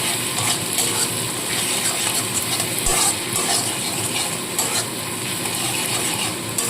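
Spice paste of turmeric, chilli powder and Kashmiri chilli is stirred into a small fish curry in a pan, with steady sizzling and scraping of the spoon against the pan, close and continuous.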